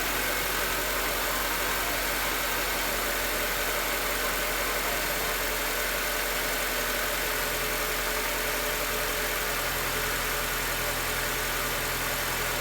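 A car engine idles steadily at about 1500 RPM during an idle air control valve fix, a constant mid-low hum with light vibration and no talking.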